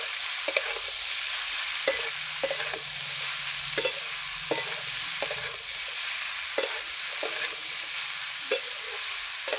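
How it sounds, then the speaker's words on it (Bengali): Chopped ash gourd fries in a pan with a steady sizzle, while a spatula scrapes and taps through it at irregular intervals, close and clear with no voices. "চাল কুমড়োটা দিয়ে ভালো করে নাড়াচাড়া করে নেব।"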